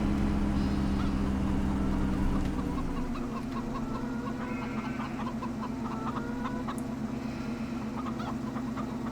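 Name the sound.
chickens clucking in a video game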